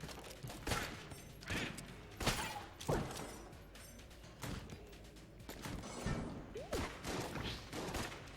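Sniper rifle gunfire in the twin-stick shooter Enter the Gungeon: a series of loud, sharp shots spaced about a second apart, each with a quick crack and short decay over busy game background noise.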